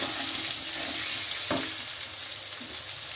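Mixed vegetables for Bengali shukto fry in a pan with salt added, a steady broadband sizzle running throughout with one brief stirring clatter midway; no talk.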